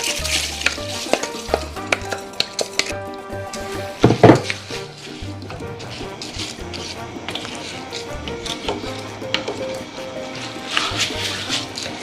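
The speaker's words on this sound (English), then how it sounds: "Now I'm gonna add the rice." Two pounds of washed rice going into a seafood paella pan, with steady sizzling and frying, stirring scrapes and occasional clinks of a utensil against the pan, one sharper clatter partway through.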